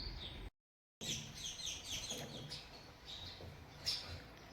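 Sparrows chirp in short, bright, repeated tweets against a soft, low background hum, a brief gap of silence interrupting, the calls faint and somewhat distant.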